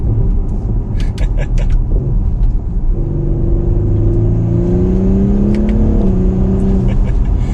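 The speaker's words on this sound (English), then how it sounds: "The turbocharged engine really gets up and goes, and that transmission is lightning quick." A 2021 Audi SQ5 with a turbocharged engine accelerates hard in dynamic mode. Its whirring engine drone climbs steadily in pitch, drops at a quick gear change, then climbs again, all under the rumble of the cabin.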